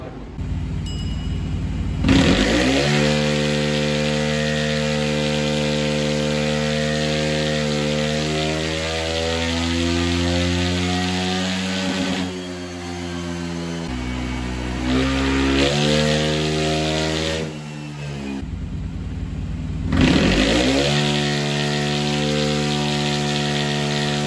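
Honda Vario 125 scooter fitted with a 175cc bore-up kit and Vario 150 head revving on a dyno, the engine whining up through rising pitch sweeps, dropping back, then climbing again in repeated loud pulls.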